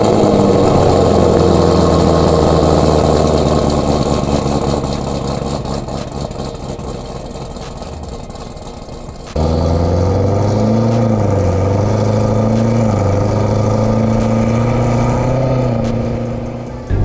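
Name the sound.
sports car engine starting and idling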